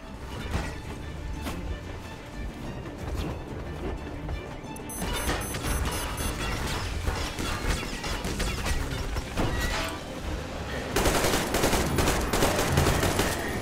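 Sustained gunfire in Metro Exodus 2, with dense bursts and crashing impacts throughout and heavier, louder volleys near the end.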